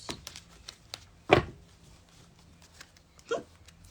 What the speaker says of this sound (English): We have hiccups.